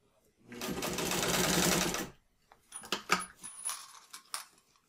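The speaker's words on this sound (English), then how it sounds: "So you can see I've got one line of stitching here, one that goes across, and now I'm going to come straight." Sewing machine stitching a martingale collar, a short close burst of rapid mechanical chatter lasting under two seconds, followed by clicks and handling noises of the fabric and presser foot.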